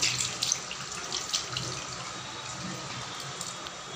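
Tap water runs into a bathroom basin while it is being washed, a steady splashing stream with a few louder splashes near the start, close by and alone.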